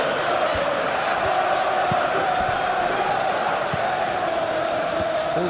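A football stadium crowd in PES 21 reacts to a tackle with a steady, loud roar and murmur of cheering that holds throughout.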